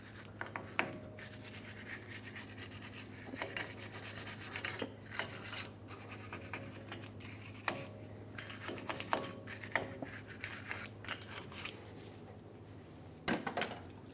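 A wire brush scrubs rust from the rear brake hub of a 2003-2009 Dodge Ram 2500 pickup, giving repeated rasping strokes in bursts with brief pauses, close and steady.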